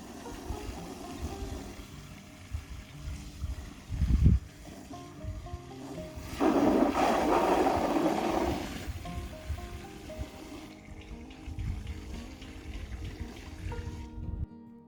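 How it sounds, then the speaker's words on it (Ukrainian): Newly planted blueberry bushes are watered to settle the soil and peat, with a thump and then a few seconds of broad rushing, splashing water over quieter background noise. "Залишилось тільки пролити їх водою, щоб не було пустот у ґрунті та у торфі."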